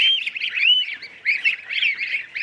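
Farm geese honk close by in a busy overlapping cluster, with nasal calls rising and falling in quick bursts and no voices.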